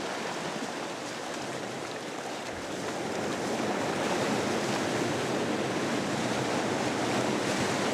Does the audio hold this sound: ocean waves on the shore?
yes